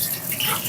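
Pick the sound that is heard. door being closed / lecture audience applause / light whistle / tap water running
tap water running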